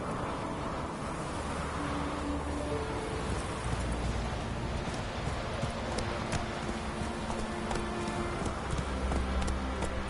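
Roach, the horse in The Witcher 3, gallops with a steady rapid clip-clop of hooves over a constant wash of wind and ambient game noise, close and continuous.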